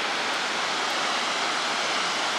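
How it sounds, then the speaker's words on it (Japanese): Harajiri Falls heard from a suspension bridge facing the cascade: a steady, dense roar of falling water, loud and unbroken, with no voices. "原尻の滝です。"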